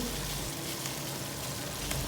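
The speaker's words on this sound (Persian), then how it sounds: "میلم که بانجان رومی خوب سرخ شونه" Continuous crackling sizzle of tomatoes frying in a hot pan with curry spices for Afghan okra and potatoes, steady and close throughout the short stretch, with no talking.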